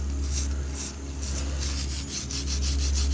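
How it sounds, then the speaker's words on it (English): A wire fitting brush scrubs the inside of a half-inch copper pipe fitting in quick, repeated rasping strokes, close and steady over a low constant hum. "Use the half-inch end of your fitting brush."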